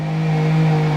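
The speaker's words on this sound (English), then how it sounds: "Sorry about the noise, Mr. Chainsaw's at it again." A chainsaw's steady, droning motor buzz holds a constant pitch, loud and close, with no voices.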